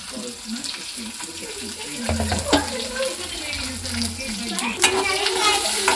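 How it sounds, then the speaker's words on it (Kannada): Chopped onions and curry leaves fry and are stirred in a pan for mushroom pepper dry, giving a moderate sizzle with clinks and scraping, mixed with running water and brief background voices. "ಈರುಳ್ಳಿ ಮತ್ತು ಕರಿಬೇವಿನ ಸೊಪ್ಪು ಹಾಕೊಂಡಿದ್ದಾರೆ. ಸೊ ಚೆನ್ನಾಗಿ ಫ್ರೈ ಆಗಬೇಕು."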